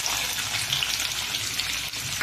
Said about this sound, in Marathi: तेल तापायला ठेवले, त्यात 2 बारीक चिरलेले कांदे टाकले,